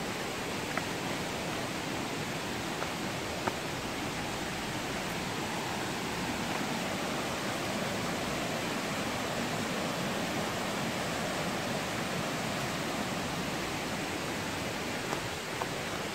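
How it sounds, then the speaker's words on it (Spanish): A swollen river rushes after rain, giving a continuous, even roar of flowing water with no breaks or voices, heard from nearby. "para mostrarles a ustedes el río crecer"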